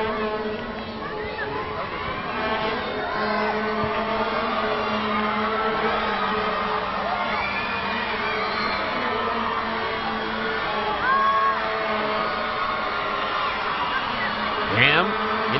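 Stadium crowd at the 2002 CONCACAF Women's Gold Cup final between the USA and Canada, a steady roar and murmur of spectators rising briefly near the end, with faint whistles and calls over the sustained babble.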